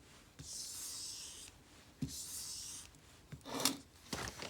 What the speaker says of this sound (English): you're going to want to rub backwards on the strop, just like this